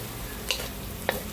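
Pork meat for chopsuey fries in a pan with a steady, hissing sizzle, broken by two brief spoon scrapes.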